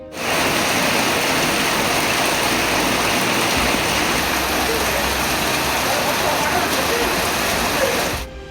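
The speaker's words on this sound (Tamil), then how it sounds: "கன்னியாகுமரி மாவட்டத்தில் பேச்சிப்பாறை, குலசேகரம் சுற்று வட்டாரத்தில் இடி மின்னலுடன் கூடிய கனமழை பெய்தது" Heavy summer rain pours down steadily in Kanyakumari district near Pechiparai and Kulasekaram, a dense, loud, continuous hiss of rainfall; no distinct thunderclap stands out.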